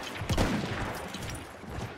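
Gunfire in the Battlefield 1 video game, a burst of distant, rattling shots cracking together in quick succession amid battlefield noise, with no voices.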